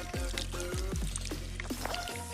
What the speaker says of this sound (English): Okay guys, so gonna give it some water.